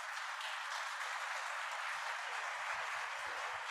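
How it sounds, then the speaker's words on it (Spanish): Audience at a supply-chain panel applauding the speakers, a steady broadband clatter of many hands, moderately distant and even throughout, with no talking over it. "les pido un aplauso para nuestros conferencistas"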